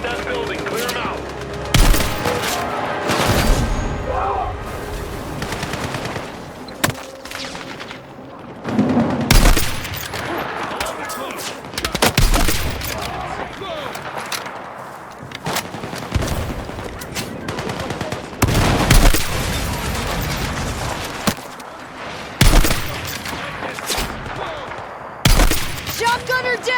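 Heavy gunfire in a Battlefield 6 campaign battle, loud bursts of rifle and machine-gun fire cracking repeatedly in clusters, with shouted radio chatter from soldiers mixed between the volleys.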